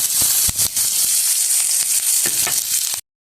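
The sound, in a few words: onions and curry leaves sautéing in oil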